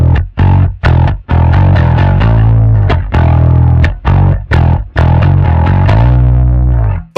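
Electric bass guitar played through a distortion effect, loud, thick notes plucked in short phrases with brief gaps between them, ending on a long sustained note that bends slightly; no voices.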